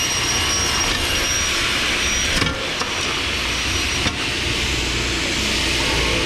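A power saw squares the end of a board, taking off about half an inch for a lap desk: a steady, loud whining roar fills the whole stretch with brief dips and a couple of sharp knocks as the cut finishes.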